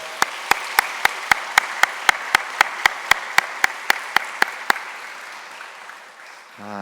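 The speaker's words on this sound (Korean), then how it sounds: "우리 전도사님 박수로 환영하겠습니다" A Sunday service congregation claps in welcome of a new evangelist, a steady run of sharp, evenly spaced unison claps about three per second that fades out after several seconds.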